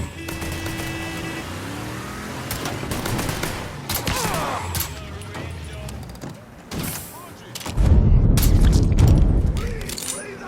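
Gunfire in Mafia 3 comes in rapid bursts of shots with heavy booming impacts, rising to a loud, dense barrage near the end, amid engine noise and voices talking.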